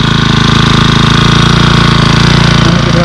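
An engine drones loudly and steadily with a fast, even throbbing, an engine-powered pesticide sprayer spraying mango trees in an orchard, running close by with no pauses.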